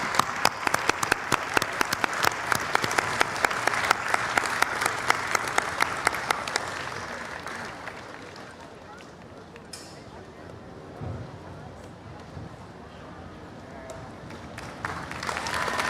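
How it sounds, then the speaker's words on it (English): Audience applause for an award recipient being honored at a large outdoor World Culture Festival gathering, dense steady clapping that fades after several seconds into quieter crowd murmur and scattered claps. "Big round of applause, well deserved."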